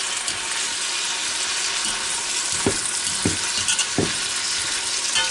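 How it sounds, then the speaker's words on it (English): Philly cheesesteak meat fries in a Ninja Foodi Deluxe with a constant hissing sizzle. Three or four distinct utensil knocks and scrapes sound as the meat is stirred, and no one speaks. "I'm just going to keep on stirring this up like this until it gets to where it all looks like it's been in there for a while"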